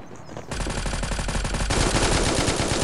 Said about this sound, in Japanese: 私には聞こえてるぞ、銃声が